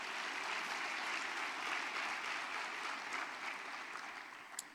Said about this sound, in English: let's give all of our family businesses a well-deserved round of applause